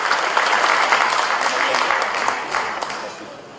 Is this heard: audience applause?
yes